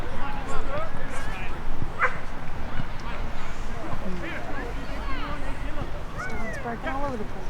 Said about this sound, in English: It's barking all over the place. The dog there is beautiful.